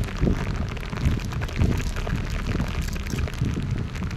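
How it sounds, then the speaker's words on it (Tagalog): Heavy rain pouring down during a ride on a Suzuki Smash 115 motorcycle, a dense continuous hiss and patter with low rumbling wind noise, loud and close throughout. "Aking Suzuki Smash 115 na palaban sa malakas na ulan."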